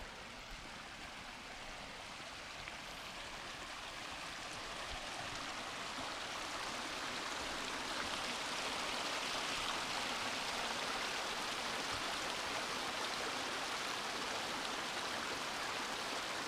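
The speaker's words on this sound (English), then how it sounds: "I hear some water up ahead. Not waterfall kind of water," A steady, broad rushing of flowing creek water continues throughout, running nearby on a trail near Bridal Veil Falls, with no voices and little change in loudness.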